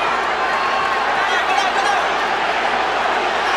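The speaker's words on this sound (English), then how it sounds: "the crowd is at a high pitch. It's a frenzy." A boxing arena crowd roars in a sustained, dense wash of noise from start to finish, with a commentator talking over it.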